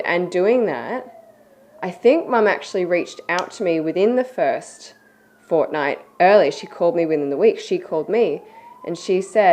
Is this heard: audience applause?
no